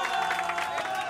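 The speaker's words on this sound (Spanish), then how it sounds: "Los aplausos ahí para su hijo." Family members clap for a son at an in-person birthday serenade, a short burst of soft, dense applause with crowd noise and a steady tone running beneath it.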